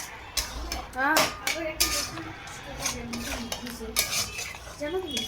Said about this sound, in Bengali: তো এখন মটনটার সাথে ভালো করে মশলাগুলো কষিয়ে নেব।